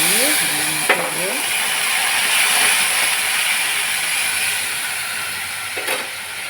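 Chili dropped into hot oil while a fish curry cooks, giving a loud, steady sizzle and hiss that fills the whole stretch, with a few faint clinks of a utensil near the start and end.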